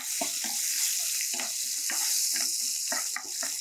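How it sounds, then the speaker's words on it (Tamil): Crushed garlic and dried red chillies sizzle and fry steadily in a hot pan, with intermittent stirring scrapes punctuating the continuous bright crackle. "இந்த பூண்டை போட்டு ஒரு நிமிஷம் நல்லா அப்படி வதக்குங்க"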